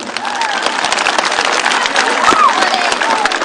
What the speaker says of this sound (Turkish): Bir alkış alalım istiyoruz onlara da.